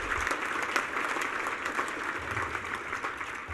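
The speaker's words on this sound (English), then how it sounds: "And you can applaud that." A crowd at a recovery meeting bursts into steady applause, a dense wash of many hands clapping at moderate loudness with no voices over it.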